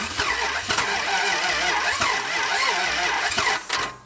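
A crushed, seized old Dodge Charger engine being cranked to start: a steady, rhythmic whirring churn of the starter runs throughout at close range, without catching.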